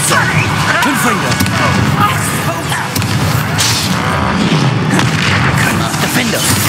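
Confringo blast spell explosions in Hogwarts Legacy combat, repeated booming impacts over continuous battle noise, with voices shouting during the fight.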